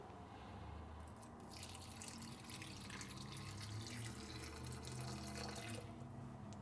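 Coconut water pouring from a container while making agua fresca de coco, a steady liquid stream splashing continuously at close range with no talk.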